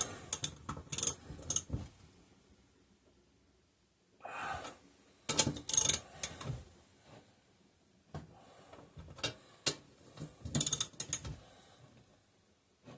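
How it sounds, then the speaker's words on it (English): Ratchet tightening bolts on a 5hp Briggs and Stratton engine, heard as scattered bursts of quick metallic clicks separated by quiet pauses. "we're going to go ahead and finish tightening them in that same pattern with a ratchet"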